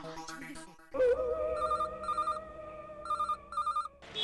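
A telephone rings in two pairs of bright electronic trills, clear and close, after a short musical sting.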